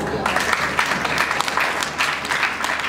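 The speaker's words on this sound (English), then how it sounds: "let us all clap for teachers too" At a 2017 awards ceremony in Ogun State, an audience claps for teachers in a sustained patter of applause at moderate loudness, with a voice faintly audible underneath.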